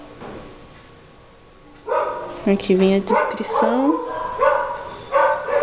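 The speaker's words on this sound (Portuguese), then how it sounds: "Não ligue para os meus cachorros, tá, gente? Que estão latindo ao fundo." Several dogs bark and yip in bursts in the background of a home, repeated sharp calls over a few seconds while someone speaks over them.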